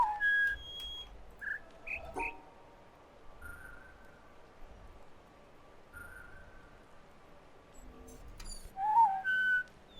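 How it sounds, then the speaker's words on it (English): Whistled tones from an audio puzzle in the video game The Witness: several short, clear whistles and a few longer sustained notes, separated by gaps, over faint ambient background and soft bird-like chirps. "I'm listening to the whistle."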